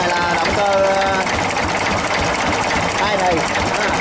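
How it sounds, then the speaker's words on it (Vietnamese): An old engine, nearly a century old, runs with a steady, loud mechanical chatter and rhythmic knocking, while someone talks over it nearby. "động cơ, này là động cơ"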